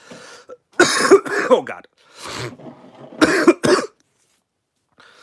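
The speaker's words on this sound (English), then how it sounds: "I got to cough a lot." A man coughs hard in two harsh bursts of several coughs each, close and loud, with a brief spoken exclamation between them during a live nitro RC car unboxing.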